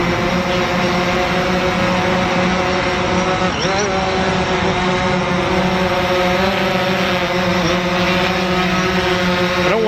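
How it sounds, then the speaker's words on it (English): A steady, droning multi-rotor drone buzz with a constant whining pitch runs throughout, loud and close, wavering slightly as it takes off, climbs and moves. "figured I'd get a little aerial footage for you with the old drone"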